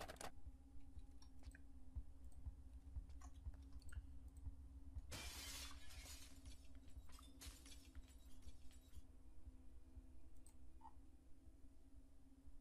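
Window glass shattering in the video game Project Zomboid: a sudden loud crash of breaking glass followed by scattered tinkling shards falling, set against a low steady hum with faint clicks.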